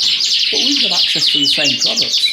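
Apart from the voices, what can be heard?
Yorkshire canaries singing in a bird room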